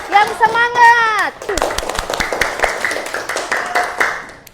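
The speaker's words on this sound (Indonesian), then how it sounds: "Tepuk tangan dulu untuk Indah." A classroom of students claps for a classmate, a burst of scattered hand claps following a sung-out voice, with claps thinning and talking continuing over them.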